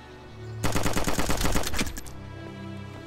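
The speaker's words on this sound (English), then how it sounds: "I have to shoot him." Rapid automatic gunfire in the video game DayZ, a burst of about a dozen sharp shots over roughly a second and a half, followed by a few scattered reports trailing off.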